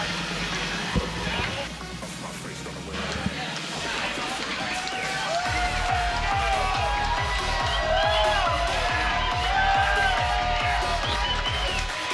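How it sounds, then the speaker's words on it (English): A crowd at a Cagezilla cage fight cheers and roars in a large hall, loud and sustained. Whistles and shouts rise over the noise, and a rhythmic low thumping starts partway through. "Cagezilla crowd going wild"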